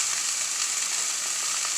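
Cajun-seasoned steak and shrimp fry together in one pan, a steady close hiss of hot sizzling oil with no break and no voices.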